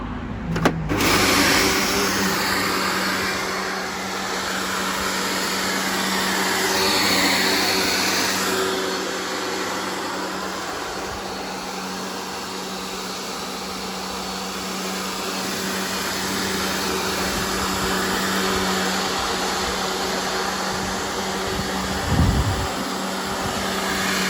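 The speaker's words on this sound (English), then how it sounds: "See, I've blown all the leaves onto the stones." A leaf blower drones steadily outdoors while blowing leaves onto stones, a loud continuous motor whine with slight swells in level and no speech.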